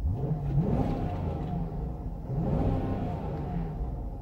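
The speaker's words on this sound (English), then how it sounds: "the engine really doesn't have too much of a sound on the inside. It's pretty muted." A 2019 Jeep Grand Cherokee Overland with the 5.7L V8 heard from the cabin, a muted low engine rumble that swells twice as it revs, steady and subdued with no talking.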